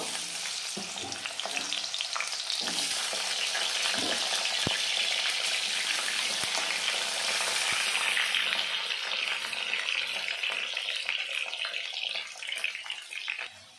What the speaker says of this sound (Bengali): दिए देब कड़ाइते परिमाण मतो तेल, आलूगुलो दिए देब